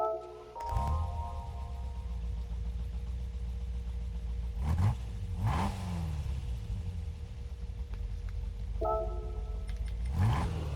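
A 1969 De Tomaso Mangusta engine in Gran Turismo 7 cranks and roars to life, then idles with a steady rumble, broken by several loud revs spaced a few seconds apart.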